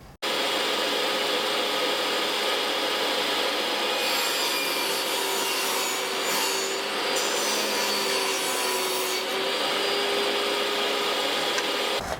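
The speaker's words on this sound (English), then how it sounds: "rip this across the table saw, cut my notch." A table saw rips a wooden beehive top bar lengthwise, the blade spinning up to a steady high whine, then a louder rasping bite as the wood feeds through, close and continuous with no voices.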